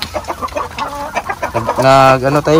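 Native chickens on a provincial farm in Glan, Sarangani clucking close by, a run of short clucks rising into a louder drawn-out squawk near the end.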